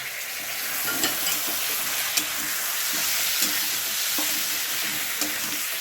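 Spice paste of chilli powder and ground cumin sautéed with a splash of water in a pan, giving a dense, even sizzle with occasional light spoon taps, close and steady.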